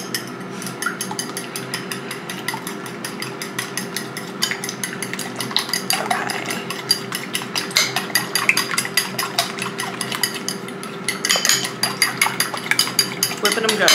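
Eggs being whisked in a bowl for scrambled eggs with cheddar, a steady rapid clicking and scraping of utensil against the bowl that grows busier toward the end, with no talk over it.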